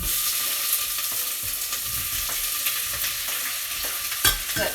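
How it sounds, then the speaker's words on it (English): Chopped brown onions fry in hot olive oil with a bright, constant sizzle, broken by repeated soft scrapes and clacks of a utensil stirring the pan, close up with no talking. "I'm putting some olive oil in a hot pan, about 3 tablespoons, and then I've chopped up 2 brown onions, so I'm adding those."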